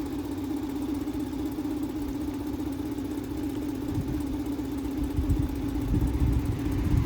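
A new Suzuki DF20 short shaft outboard motor idles steadily nearby during break-in, a low, even putter with a constant hum and slight roughness.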